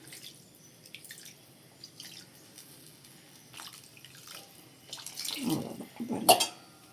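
Water is poured into a pan of tamarind kuzhambu, ending in a couple of short close splashing gushes after quieter drips and faint kitchen clinks.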